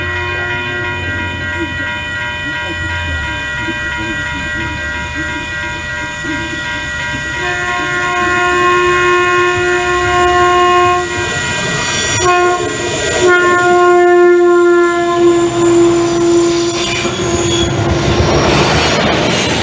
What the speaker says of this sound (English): a Sprinter train was heading into Oceanside